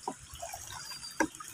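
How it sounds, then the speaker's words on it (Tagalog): River water is slapped and splashed to drive fish into a net, with two short, fairly faint splashes heard outdoors about a second apart. "Sige, Kuya Pusong, ampasin mo na yung tubig."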